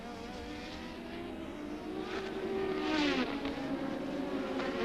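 A 1986 Formula One car with a Renault turbo engine on maximum qualifying boost runs at the Hungarian Grand Prix, its high engine whine rising and falling through gear changes as it passes moderately close, then sustained.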